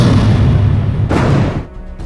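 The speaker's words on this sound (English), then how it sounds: "One spark from damaged truck wires and the whole tanker explodes." A fuel tanker truck explodes inside a road tunnel in a film scene, a heavy, loud rumbling blast that holds for about a second, then a sharp second burst before it dies away.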